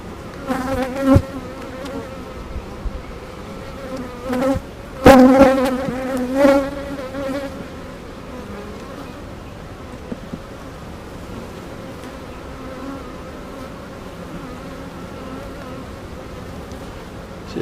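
Honeybees hum continuously around an opened beehive during a brood frame inspection, a close, steady drone with a few louder passes of single bees near the listener.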